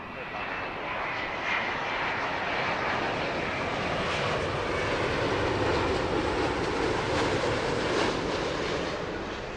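A Boeing Dreamliner landing at Heathrow on runway 09 left, a loud continuous roar of jet engines that swells and holds close by before easing slightly, with voices in the background.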